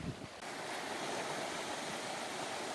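Sheep's Creek off the Parks Highway in Alaska runs fast, a steady close rushing of flowing water that holds constant after a brief quieter start, with no voices.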